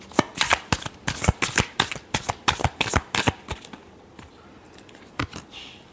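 Tarot cards being shuffled by hand: a quick run of crisp riffling slaps in a steady rhythm, close and distinct, then a short pause and a few final flicks.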